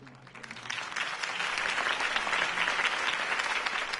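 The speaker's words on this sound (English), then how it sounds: "could have heard that applause" Crowd applause bursts up after a mayoral campaign speech and holds steady, a dense field of clapping hands filling the space without any speech.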